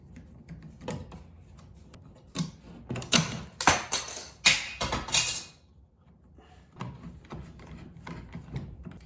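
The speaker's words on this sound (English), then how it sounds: "the tool for this project is going to be a flathead screwdriver" A flathead screwdriver on a multi-tool works the screws out of a light switch plate, giving close scraping clicks and sharp metallic taps that cluster into a louder burst midway, then fall back to quieter fiddling.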